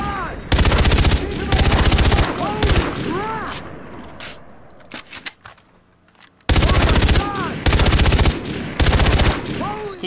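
Loud bursts of rapid automatic gunfire from the Far Cry 3 shooter game come in three quick volleys, fall to a quieter lull with scattered shots, then return as three more sustained rattling volleys.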